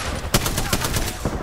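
Rapid gunfire in the Apex Legends video game, a loud run of evenly spaced shots at close range firing in a quick rhythmic burst.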